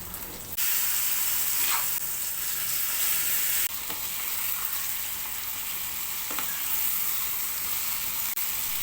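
Dried red chillies, curry leaves and fenugreek seeds sizzle in one or two spoons of hot oil while being tempered for gongura pickle. The crackling hiss is loud, steady and close, with occasional stirring clinks and no talk.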